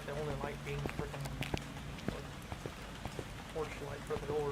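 Rain patters steadily on surfaces around a farmhouse in the game Phasmophobia, with scattered drip taps and footstep-like knocks while someone talks over it.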